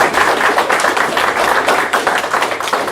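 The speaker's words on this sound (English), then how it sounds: "one more round of applause for Scott." At a Libertarian Party convention social, a room full of people claps steadily in a brief, dense burst of applause.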